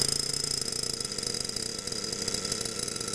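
A small nitro RC car engine idles steadily after starting, a continuous buzzing drone with a rapid even beat, moderately loud and close, with no voices over it.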